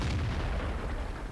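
Tank cannon fire in an online tank battle game with an E-50 heavy tank: one deep, rumbling blast that fills the whole moment and decays slowly, loud and close.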